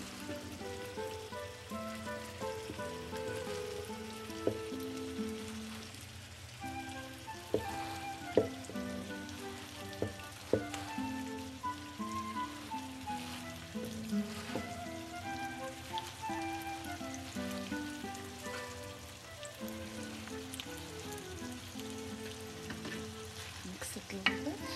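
Spinach frying in a pan gives a long, even sizzle broken by frequent stirring scrapes and small spatula knocks, close and steady throughout, with no speech.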